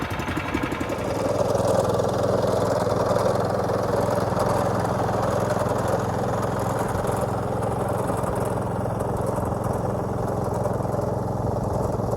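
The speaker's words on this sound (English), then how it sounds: "we're going to try to see if it'll do a cold start" A Turfco Kriscutter's small engine starting cold on the first pull, catching after a brief rattle and then running at a steady, loud, chugging idle close by.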